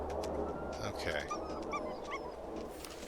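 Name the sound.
dog in the video game The Long Dark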